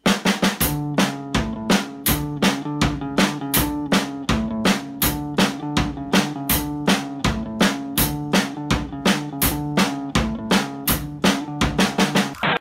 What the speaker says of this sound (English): And it's just a kick drum on 1 and 3, snare on 2 and 4